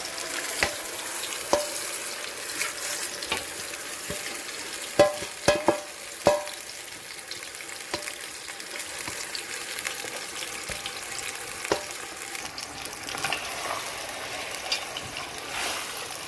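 Chicken pieces dropped into hot oil for a masala biryani, giving a steady frying sizzle with a few sharp pops and clatters near the start, no talking over it.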